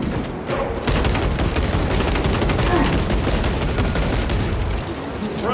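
Dense, sustained automatic gunfire fills a Warhammer 40,000 Space Marine 2 battle, with rapid overlapping shots and booms rolling on nearly without pause at close, loud range.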